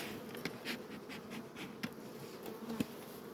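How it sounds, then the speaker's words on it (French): Honey bees buzzing around the supers of a beehive, a faint continuous drone with scattered brief ticks and taps close by. "les abeilles commencent à faire du miel"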